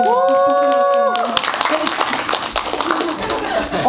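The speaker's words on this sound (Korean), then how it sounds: "박수 부탁드리겠습니다" An audience at a film screening breaks into applause, scattered claps building after a short stretch of voices and a tonal sound at the start, continuing over a murmur of talk.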